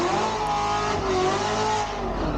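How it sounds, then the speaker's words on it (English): A Corvette C7 sports car roars through a sustained burnout at a drag race, its engine revving hard and loud with a steady rasp of spinning tires underneath. "here goes a burnout from the C7"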